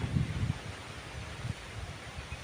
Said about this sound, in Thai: ลมมาอย่างแรงครับผม